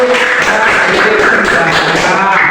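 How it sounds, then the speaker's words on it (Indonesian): Loud, steady clapping for a child named Sisil in a classroom lesson, a close, continuous patter of many hands with voices mixed in. "tepuk tangan sih untuk Sisil"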